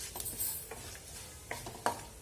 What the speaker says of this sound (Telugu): కొంచెం షాజీరా వేసుకొని ఫ్రై అవ్వనివ్వాలి.